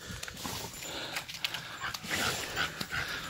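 Several dogs on leads pant quickly and breathily nearby, with small whimpers, shuffling and rustling over a noisy outdoor background.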